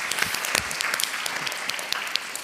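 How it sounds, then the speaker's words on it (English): Audience applause at a university diversity festival talk, a dense patter of many hands clapping at moderate distance, steady for a couple of seconds with crisp individual claps poking through. "a round of applause for that."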